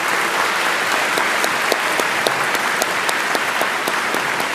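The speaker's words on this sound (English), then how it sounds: "A round of applause for them." A convocation audience at Seattle Colleges gives a round of applause, a steady, moderately distant wash of many hands with a few sharper individual claps standing out.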